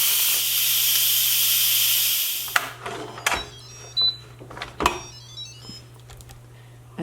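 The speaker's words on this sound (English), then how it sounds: "This model has a quick release button, so I'm just going to press that down and it'll release the rest of the pressure." An Instant Pot releases pressure through its quick release button, a loud, steady hiss of venting steam lasting a couple of seconds that cuts off abruptly, followed by quiet clicks, small beeps and light handling noises.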